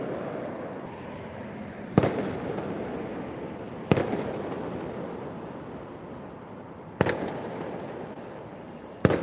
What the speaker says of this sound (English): Some small explosions again down the street, just down the block.